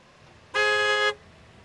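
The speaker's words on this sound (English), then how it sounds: "Connor leaned on the horn and flashed his high beams." A car horn honks once in a single steady blast of about half a second, loud and close, with faint background noise before and after.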